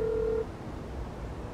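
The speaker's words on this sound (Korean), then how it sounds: "진짜 다원이한테 전화해볼게." A single short telephone dial tone or keypad beep from a phone at a campsite at night, steady and fairly loud, then cutting off into quiet background hiss.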